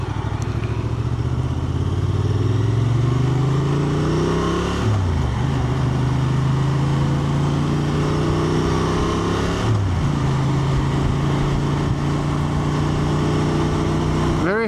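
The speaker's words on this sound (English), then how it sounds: "Very happy with this motorcycle" Honda Transalp XL750 motorcycle being ridden on the road, a continuous close engine drone with two clear pitch drops at gear changes and steady wind rush.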